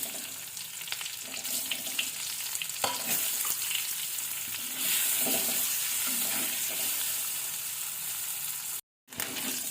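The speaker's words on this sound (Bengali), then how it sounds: "ডিমগুলোকে এখন আমি ভেজে নেব।" Eggs coated in turmeric, salt and Kashmiri chilli frying in a pan, a soft continuous sizzle with light stirring scrapes and a brief dropout near the end.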